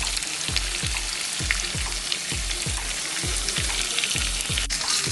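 Potatoes simmer and sizzle in a pan of butter and ghee, a steady bubbling fry with a regular low pulsing thump, close and fairly loud, no talk.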